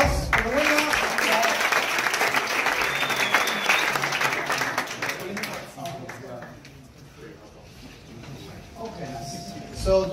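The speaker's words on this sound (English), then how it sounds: "An applause for the winner." At a community meetup giveaway, the crowd applauds a prize winner: loud, dense clapping that thins out midway, with chatter and a voice emerging as it dies down.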